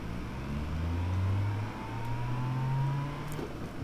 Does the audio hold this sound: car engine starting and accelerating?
yes